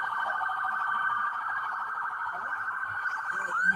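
A police car siren wails at a traffic stop, a steady, sustained tone held at moderate distance, with faint voices underneath.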